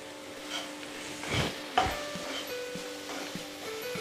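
Sliced small shallots drop into a hot pan, giving a soft steady sizzle with a few scraping stirs of a spoon against the metal, close and fairly quiet.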